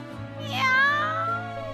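A single drawn-out cat meow, close and clear, rising then trailing off over a low steady background hum.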